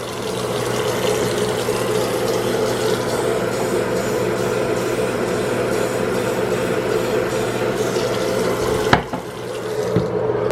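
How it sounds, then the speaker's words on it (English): Warm water runs steadily from a tap into a sink, a continuous broadband rush, close and loud, for mixing with bleach; near the end a brief clunk and knock as the flow stops. "I poured a cup of bleach, and I'm gonna add equal parts water to that."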